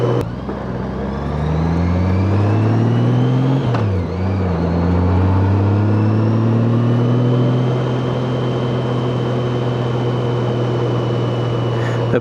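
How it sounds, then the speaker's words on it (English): Honda F6B Goldwing motorcycle cruising up South Mountain Park, Arizona: a steady, smooth engine hum that rises in pitch, dips briefly, then holds a constant drone with wind noise. "on this big old Goldwing, it's not about how fast, right? Just enjoying the ride"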